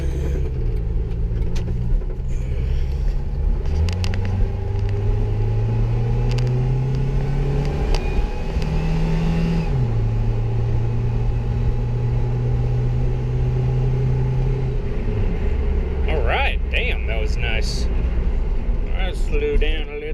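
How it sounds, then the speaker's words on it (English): A Jeep Wrangler with fresh oil drives around the block, its engine rumbling steadily in the cabin as it shifts and accelerates, heard throughout beneath someone talking. "I'll probably go around the block one more time"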